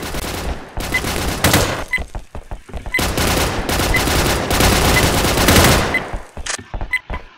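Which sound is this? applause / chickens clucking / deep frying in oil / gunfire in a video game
gunfire in a video game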